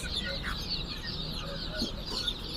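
Seventeen-day-old brooded Khaki Campbell ducklings at a market peep in a steady high chatter of many overlapping calls, close and moderately loud, with low market murmur underneath.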